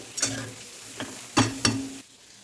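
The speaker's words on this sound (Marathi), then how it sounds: "आपण तुपात व्यवस्थित फ्राय केला ना नारळ" Grated coconut frying in ghee for coconut barfi, a soft sizzle broken by a few sharp scrapes of a spoon against the pan.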